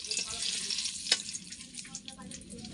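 Bay leaves and whole garam masala crackle and sizzle briefly in hot mustard oil in a wok, a close, busy frying sound with a sharp pop near the middle.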